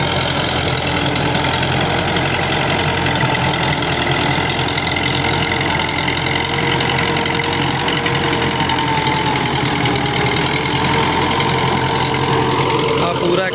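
An MTZ 50 Russian tractor pulling a 60-blade rotavator runs in first gear, its diesel engine giving a close, loud, steady drone and knock that holds without a break throughout.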